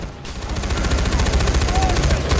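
Dense rapid gunfire and explosive mortar-style blasts roll continuously in a Far Cry 4 firefight, loud and close, with a steady rattling rhythm throughout.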